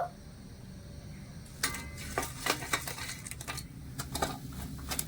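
Crisp fried khaja pastries made from flour and sugar are lifted from hot oil and set onto a plate, giving a run of light clinks and scrapes with faint sizzling behind, close and moderately loud after a quiet start.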